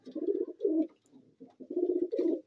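Pigeons coo at night, several soft rolling coos repeating in short bursts with brief pauses between them, close and clear with no talking.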